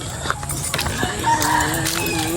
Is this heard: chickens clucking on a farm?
yes